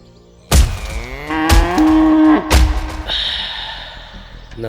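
A cow in a village field gives several deep, drawn-out moos close up, with breathy snorts between them and a short voice near the end.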